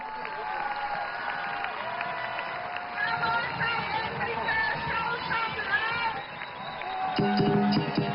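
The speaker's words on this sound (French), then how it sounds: "Par respect pour les habitants de Mitchell's Plain, applaudissez chaleureusement." A crowd in Mitchell's Plain claps and cheers ahead of a lion dance, a steady wash of applause and scattered shouts growing louder toward the end, with an announcer speaking over it.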